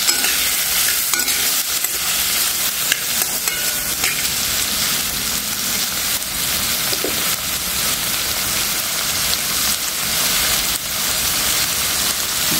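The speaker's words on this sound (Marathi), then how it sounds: "भोपळा, एक मिनिटभर परतून द्यायचं आपल्याला" Pumpkin pieces sautéing in a hot pan for a fasting-day barnyard millet pulao, a steady dense sizzle with stirring scrapes running loud and close throughout, no talking.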